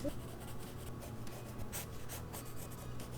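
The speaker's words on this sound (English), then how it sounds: "It's a really dark pencil." A very dark, soft pencil scratches and rubs across paper in quiet, continuous strokes with brief lifts, heard close and faint with no voices.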